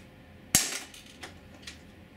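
A Walther PPS 4.5mm CO2 blowback airgun fires one sharp, loud crack. Two fainter mechanical clacks follow over the next second.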